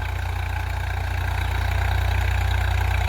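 A Swaraj tractor engine idles close by with a steady low, throbbing rumble and a regular mechanical pulse, unchanging for the whole stretch.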